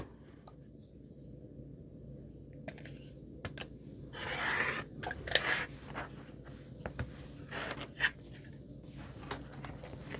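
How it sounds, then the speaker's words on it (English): Scissors cut quilting fabric along a marked line for a quilt block, producing quiet close snips and scratchy rustles in short irregular bursts, with a longer burst of crisp cutting midway. "And now we're going to cut it right on that line."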